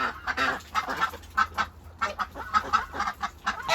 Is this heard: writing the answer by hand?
no